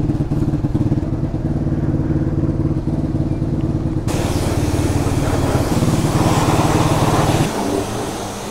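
A Kärcher pressure washer runs with a steady engine-like drone while motorcycles are washed after enduro riding. A hissing spray joins partway through and holds for several seconds before easing off near the end. No one speaks.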